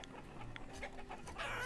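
Chickens cluck in the village-building game Banished, a few soft, quick clucks and calls at low volume under faint background ambience.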